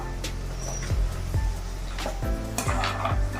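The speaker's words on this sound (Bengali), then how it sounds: "ভাজা আনাজগুলোকে এবার ঢেলে দিচ্ছে কড়াতে" Fried vegetables for Bengali shukto tipped into a kadai, with a soft sizzle and several sharp clinks and scrapes of a spoon against the pan, close and fairly quiet, with no talk.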